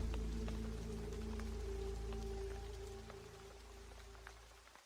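Steady rain falls in a soft, continuous hiss under a low hum. It fades gradually toward the end, with no voices.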